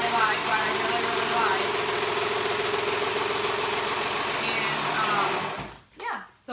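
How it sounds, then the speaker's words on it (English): Serger sewing machine stitching the edge of board shorts, a steady fast motor whir running continuously for several seconds before stopping abruptly near the end. "I am using my serger because that's what I like"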